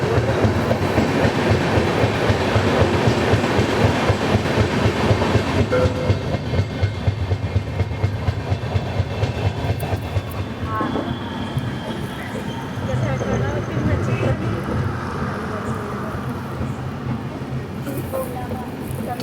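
The Mumbai Ahmedabad Double Decker Express, train 12931, runs on rails near Nadiad Junction, with loud rhythmic clickety-clack of wheels over joints and a rumbling carriage, easing off somewhat toward the end.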